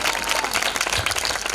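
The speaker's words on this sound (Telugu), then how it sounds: "కొట్టు చప్పట్లు ఒకసారి" Church congregation at a dedication meeting clapping together, a dense burst of applause that stays loud and steady throughout.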